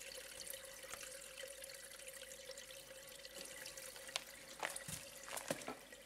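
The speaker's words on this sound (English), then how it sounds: "That's the sound of the running water from the natural spring" Running water from a natural spring on open land, a steady trickling and dripping flow with a constant hum beneath and a few louder splashes and knocks, heard alone without talk.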